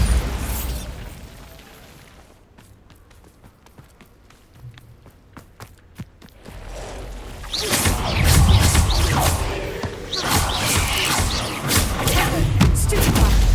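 Bombarda spell explosions in the video game Hogwarts Legacy, loud booming blasts and rumbling debris that swell after a quieter stretch of thuds and footsteps.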